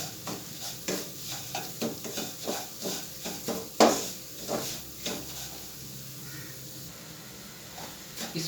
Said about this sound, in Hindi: इसमें आप हल्का हल्का चम्मच हिलाते रहें ताकि ये नीचे से ना लगे